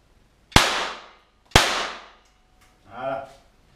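Two loud 12-gauge blank shotgun shots fired toward a plant, about a second apart, each a sharp crack with a fading echo, followed by a short voiced sound.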